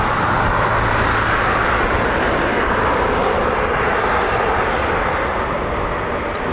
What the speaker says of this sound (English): they are starting up. You can hear their wonderful EJ200 engines.